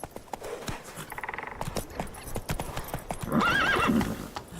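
Roach the horse in The Witcher 3 video game galloping, with fast rhythmic hoofbeats and a clear neigh near the end, close and prominent without speech.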